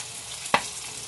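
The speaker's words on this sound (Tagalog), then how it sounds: "Fried na manok." Soft background sizzle of food frying in oil, with a single sharp pop or clatter near the middle.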